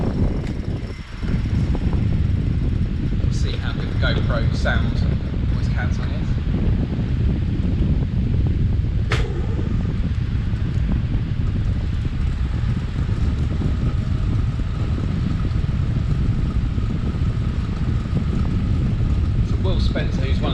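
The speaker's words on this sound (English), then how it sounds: "I'm going to turn the fans on now." Electric fans running, switched on during an indoor stage race, give a steady, loud, broadband whoosh that fills the whole stretch while someone talks over it.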